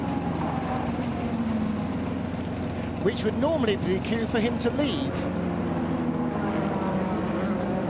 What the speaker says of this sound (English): So it started the engine, you can hear there under my voice.